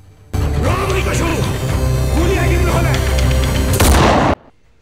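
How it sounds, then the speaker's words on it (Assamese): Police gunfire at a fleeing young man in a trailer for the Assamese film Gamon, heard as a loud, dense burst of shots and booms over a rumbling score, ending in a sharp crash before cutting to silence. "আৰু যুৱকজনলৈ আৰক্ষীয়ে চলালে গুলী"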